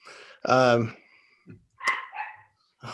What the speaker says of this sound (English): they never bark unless I'm in city council meeting